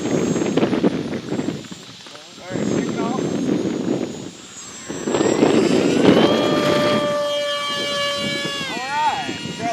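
An AeroScout RC airplane's electric motor whines and rises under throttle, climbing in pitch before settling into a steady high drone, with people talking nearby throughout.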